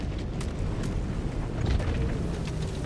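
Explosions from a double strafing run in Helldivers 2, heard as a continuous deep rumbling barrage of blasts, loud and sustained, with no talk over it.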